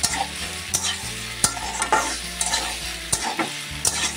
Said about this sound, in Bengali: এবার পাস্তাগুলিকে দিয়ে সুন্দর করে মিশিয়ে নিচ্ছি।